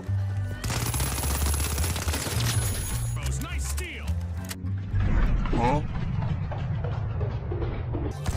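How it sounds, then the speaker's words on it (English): Rapid gunfire bursts rattle through a chaotic video game fight, loud and close, mixed with engine noise and clattering effects while someone talks excitedly over the action. "We pop some shots off, and then we go back in."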